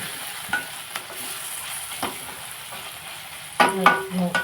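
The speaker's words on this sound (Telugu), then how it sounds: "మళ్ళీ అలా తీసి కలుపుకుంటూ ఉండాలండి" Mushroom curry with onions, ginger-garlic paste and garam masala sizzles steadily in a pan, with a few soft scrapes of stirring that grow louder and busier toward the end.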